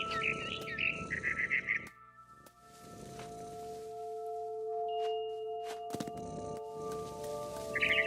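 Birdsong from a barn swallow in the video game What Remains of Edith Finch: bright chirping bursts at the start and again at the end, with a quiet ambient hum between them.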